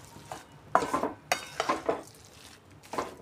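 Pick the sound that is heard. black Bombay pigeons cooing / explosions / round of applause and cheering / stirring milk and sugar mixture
stirring milk and sugar mixture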